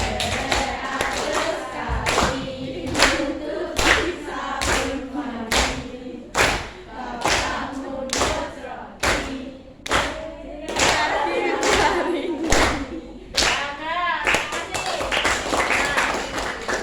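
Children clap their hands in a steady rhythm, regular loud claps under group singing of a duck song in a classroom.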